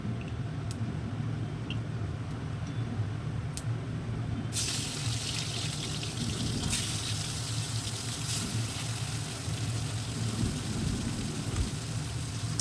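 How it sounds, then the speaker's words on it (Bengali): Prawns fry in a pan of hot oil for a restaurant-style Chinese combo dish, giving a steady close sizzle that swells into a brighter, louder crackle partway through and holds there, with no voices. "এবার চিংড়ি মাছগুলো ভেজে নেব।"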